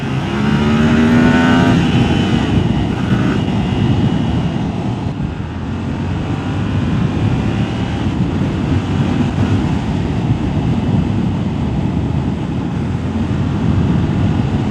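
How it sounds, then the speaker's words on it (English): Yamaha R7 700cc motorcycle engine, redline of 12,000 RPM, revving hard and steadily under a constant rush of wind, loud and close from the rider's position, without pause. "It sounds like it's got a bigger engine than 700cc."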